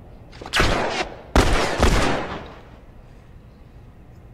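Two or three loud, close gunshots ring out in The Last of Us, each a sharp blast with a booming tail, followed by a fading reverberant decay.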